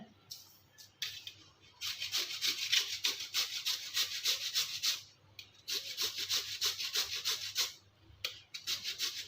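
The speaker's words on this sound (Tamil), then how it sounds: "இப்போ கேரட் திருவுள்ள திருவி எடுத்துடலாம் பெரிய கண்ணில் திருவி எடுத்துருங்க" Carrots being grated on the large holes of a box grater, heard as bursts of steady rhythmic rasping strokes with two short pauses, close and fairly quiet with no talking.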